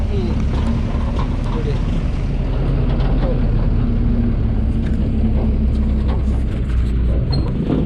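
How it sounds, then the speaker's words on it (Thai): A loud, steady engine drone and road rumble fill the inside of a six-wheeled truck as it carries passengers out of a national park in Nan. The noise is constant throughout, with faint voices underneath. "นั่งหกล้อออกจากอุทยานนะครับ"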